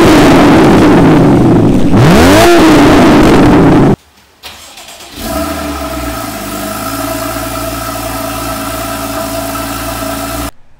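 A Porsche 981 Cayman S fitted with a Fabspeed race exhaust revs loudly and close with a rising and falling blip. After a sharp cutoff and a brief pause, the engine settles into a steady, throaty idle.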